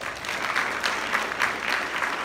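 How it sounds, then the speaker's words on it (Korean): Short burst of audience applause in a lecture hall at an architectural engineering policy seminar, steady clapping of a moderate crowd heard at a distance, no voices over it. "큰 박수 부탁드리겠습니다"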